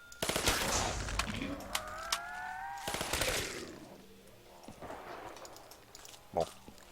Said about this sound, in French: Petit M16.